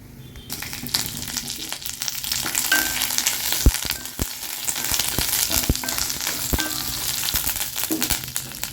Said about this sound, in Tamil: மிளகாயும் உப்பும் கருவேப்பிலையும் வறுத்துக்கலாம்